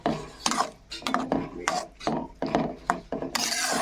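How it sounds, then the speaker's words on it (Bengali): Egg curry in yogurt gravy being stirred after coriander leaves are scattered on top, a spoon scraping the pan in short rhythmic strokes, close and clear with no talk. "এবার গ্যাসটা বন্ধ করে ধনে পাতা ছড়িয়ে দিয়ে একটু নাড়িয়ে দিতে হবে"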